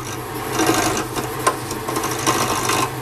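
A roughing gouge cuts a wooden pen blank spinning on a lathe, giving a steady, close rasping whir that holds for about three seconds with small surges, and no one talks.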